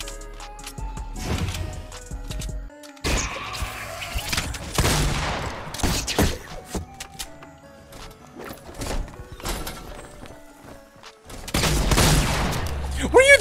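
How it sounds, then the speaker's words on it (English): Gunfire erupts in a Fortnite match: repeated bursts of shots and rapid volleys crack throughout, loud and close. Players talk over the shooting. "Connor, I'm getting shot at from the southwest"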